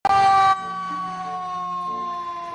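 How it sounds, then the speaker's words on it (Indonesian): Toy fire engine siren, a loud electronic wail with a steady held tone and a brief harsh burst at the start, sounding close and alone. "Ada mobil pemadam kebakaran."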